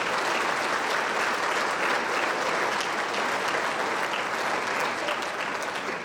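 Steady, enthusiastic applause from a large crowd at a fundraising dinner, many hands clapping continuously without a break.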